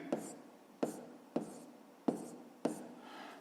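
Pen or pencil writing in a notebook, five short scratching strokes each starting with a sharp tap, spaced evenly and heard close and alone.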